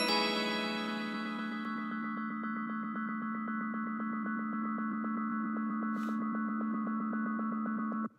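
Synth melody fed into a delay with feedback over 100%, building into a dense ringing, bell-like sustained tone with fast repeating pulses, steady and fairly faint until it cuts off abruptly, no talk.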